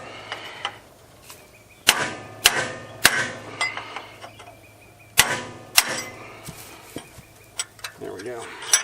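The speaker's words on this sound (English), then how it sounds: "you can use another big punch like that and just drive it out." Big steel punch struck with a hammer to drive a rivet out of a hay-mower tooth, a series of sharp metallic blows at irregular intervals, close and loud, with light clatter between strikes.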